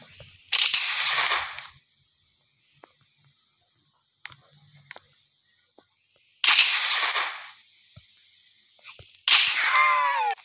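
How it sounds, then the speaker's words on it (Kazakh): Gunfire in a Roblox game: three loud, close bursts of shots, each a sharp blast with a ringing tail, separated by quieter gaps holding faint clicks. "Енді мылтықпен ататын."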